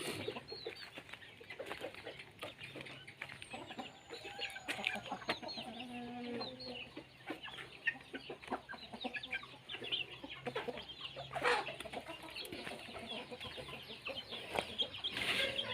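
Chickens cluck at a backyard coop on a small self-sufficient farm, a steady mix of near and distant clucks and short calls with a faint background hum and no voices.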